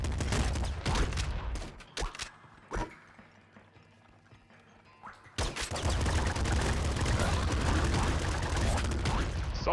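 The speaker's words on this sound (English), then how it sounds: "Assault rifle." Rapid assault rifle fire in the Nuclear Throne video game, dense bursts of shots in two stretches separated by a quieter gap with a few isolated bangs, loud and continuous.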